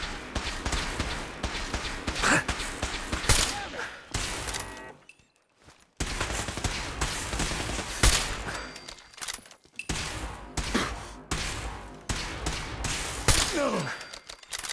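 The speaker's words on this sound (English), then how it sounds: "Fire at will!" Fallout 4 combat with dense bursts of gunfire and rapid volleys, repeated nearly nonstop with a brief lull in the middle, mixed with shouted voices and battle clatter.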